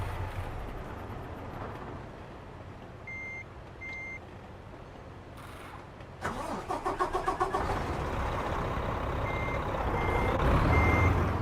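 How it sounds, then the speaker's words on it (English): A truck engine in American Truck Simulator cranks and fires up partway through, its idle settling into a loud, steady rumble, with reversing-style beeps chiming before and after the start. "the engine startup sounds so good."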